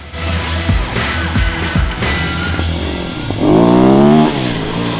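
A Sherco-TVS 450 Rally motorcycle, a 450cc bike built for the 2019 Dakar Rally, heard close with its single-cylinder engine rumbling, a few quick blips, then a loud rising rev near the end.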